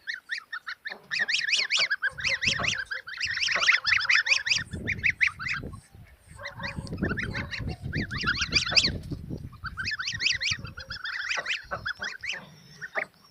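A flock of geese honks continuously up close, overlapping calls rising and falling with softer grunting beneath.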